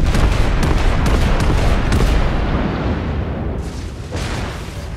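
Heavy battleship gunfire and shell impacts in World of Warships, a dense, loud rumble of overlapping booms that holds steady before easing slightly toward the end, with no talking.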